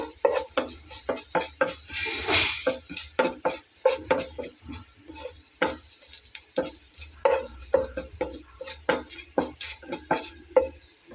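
Whole cumin seeds frying in a pan for shutki bhorta, with a constant sizzle under repeated rhythmic scrapes and taps of a spoon stirring against the pan, close and clear.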